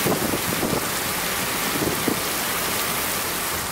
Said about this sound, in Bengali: আবার বেশ জোরে বৃষ্টি শুরু হয়ে গেল।